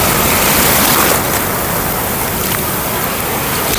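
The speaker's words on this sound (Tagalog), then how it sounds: "pumunta ako doon sa mas malapit na pinaghahampasan ng alon mga kababayan" Ocean waves crash on Samar Beach in Mercedes, Eastern Samar, a loud continuous roar of surf heard up close, with no voices.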